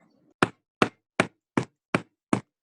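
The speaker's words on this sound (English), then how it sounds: "I heard you knock the first goddamn time." Six sharp, evenly spaced knocks on a door, loud and close, following a brief faint murmur.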